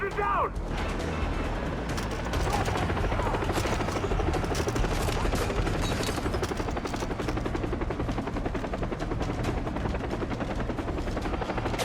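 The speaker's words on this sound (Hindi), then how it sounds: "ये कैसी आवाज आई? वो हो हेलीकॉप्टर।" A helicopter in the video game Far Cry 3 drones steadily with a dense rotor rumble throughout, mixed with rapid gunfire and game effects, while someone talks over it.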